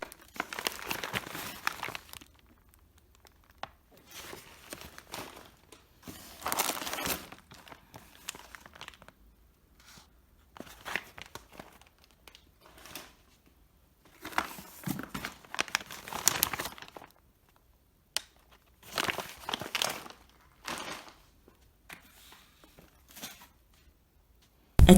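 Brown paper bags from a HelloFresh meal-kit box crinkle and rustle up close as they are unpacked, coming in repeated bursts of crumpling and tearing-like crackle with short quiet gaps, with no voices.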